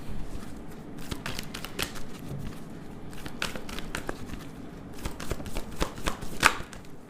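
Tarot cards are shuffled and flipped in a series of crisp, rapid slaps and riffles, close and moderately loud, with no talking.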